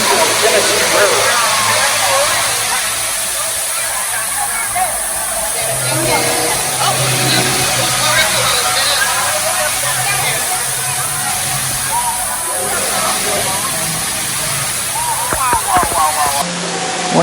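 Ruby Falls, the underground waterfall in a cave in Chattanooga, Tennessee, roars in a steady loud rush of falling water that fills the whole clip, with a voice talking over it.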